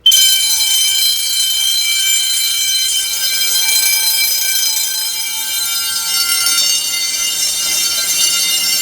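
A loud, continuous 10-inch fire alarm bell rings nonstop during a system test after a pull station is pulled, harsh and metallic, close by with no pauses.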